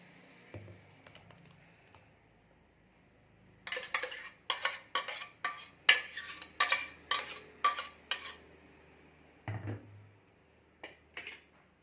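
A spoon stirs banana and egg batter in a bowl, sharp rapid clinks and scrapes in a quick rhythmic run of about a dozen strokes, close and clear, with a few scattered taps before and after.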